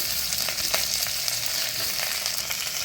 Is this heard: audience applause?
no